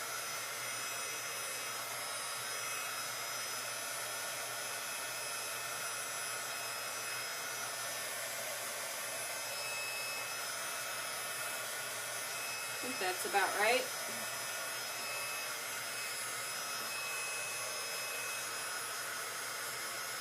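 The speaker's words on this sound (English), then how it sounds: "I might cheat and turn on my my heat tool, because I don't think blowing on it is going to dry it fast enough" A heat tool blows hot air to dry a craft card, a steady loud whooshing hum throughout, with a brief spoken remark partway through.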